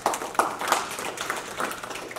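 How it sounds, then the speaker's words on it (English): Brief scattered applause from a small audience after a scientific talk, irregular claps that stay fairly quiet and start and stop quickly. "Let's give her a round of applause."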